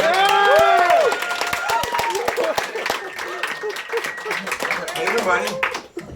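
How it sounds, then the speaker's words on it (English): A comedy roast audience claps and cheers to welcome a roaster onto the stage, loud dense applause that fades out, with a voice speaking over it. "Clap it up for Zac Amico"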